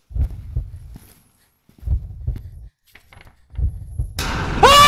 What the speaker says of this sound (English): It's that fucking heartbeat, though.